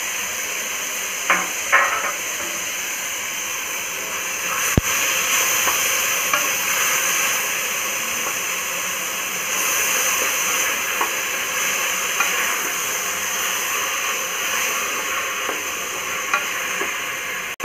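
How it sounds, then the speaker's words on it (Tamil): Mint leaves and an onion-tomato mixture sautéing in a pan for masoor dal rice khichdi, a steady close sizzle and hiss with a few soft clicks of a spoon stirring. "நறுக்கி வச்சுருக்கிற புதினா, இது ரெண்டையும் ஆட் பண்ணி அப்படியே வதக்கணும்"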